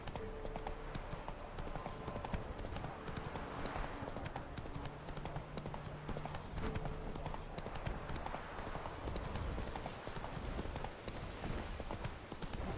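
Roach, a horse in The Witcher 3, gallops across rough terrain with steady rhythmic hoofbeats under a dense in-game soundscape, with a voice speaking over it.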